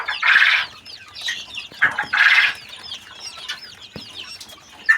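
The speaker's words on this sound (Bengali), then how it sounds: "আপনারা এখানে দেখছেন টার্কির বাচ্চা, কোয়েলের বাচ্চা এবং সোনালী মুরগির, দেশি সোনালী মুরগির বাচ্চা" Turkey, quail and native Sonali chicks, three days old, brooding together produce bursts of high chirping and peeping that come and go in clusters. The sound is close and fairly loud, with no talking.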